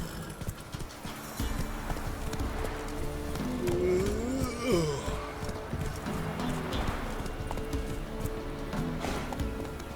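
Horse galloping in the video game The Witcher 3, with rhythmic clip-clop hoofbeats running throughout, a brief whinny near the middle and faint background ambience.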